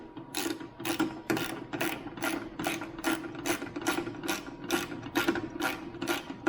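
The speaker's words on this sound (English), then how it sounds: "take your wrench," Ratchet wrench tightening a bolt on a garage door opener, a quick, even run of crisp clicks repeated in short bursts, close and clear with no talking.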